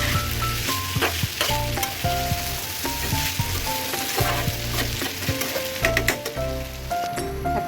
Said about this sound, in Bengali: দিয়ে ভালো করে এটা মিক্স করে নেব